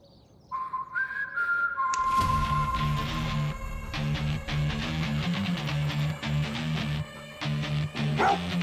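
Dog barking in a scene from a crime drama TV series: repeated barks over a dense, busy background, with high whistling tones near the start.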